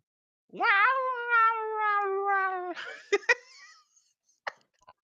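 A cat gives one long, drawn-out meow, then a few sharp clicks and rustles follow in quiet.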